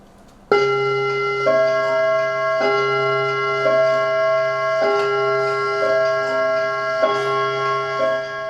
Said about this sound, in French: la pendule retarde de 10 minutes